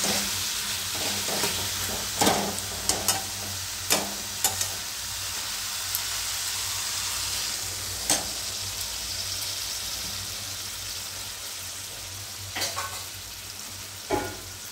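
Masala sautéing in a pan for a sweet corn and tinda curry after a little water is added, a continuous soft sizzle broken by scattered sharp stirring clacks and scrapes of a spoon.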